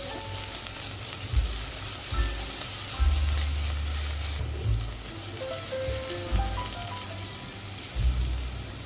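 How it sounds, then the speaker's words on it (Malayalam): Onion, two green chillies and ginger-garlic paste sautéing in a pan for potato poori and kadala curry, a steady close sizzle with scraping stirs and low knocks of the spoon against the pan throughout. "ഇതിലേക്ക് ഒരു 2 പച്ചമുളക്, 1 ടീസ്പൂൺ ഇഞ്ചി വെളുത്തുള്ളി പേസ്റ്റ് ഇട്ടിട്ടൊന്ന് വാട്ടിയെടുക്കാം."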